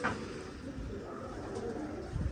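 Newly arrived pigeons in a rooftop loft coo softly and steadily, a low throaty murmur close by with faint background noise and no voices.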